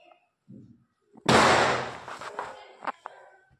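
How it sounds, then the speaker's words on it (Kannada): A firecracker bursts with one sharp, loud crack during Deepawali celebrations, followed by a decaying rumble and a few smaller pops, with faint background voices and sounds before it. "ಬ್ಯಾಕ್ಗ್ರೌಂಡ್ ಪಟಾಕಿ ಹೊಡಿತಾ ಇದ್ದಾರೆ"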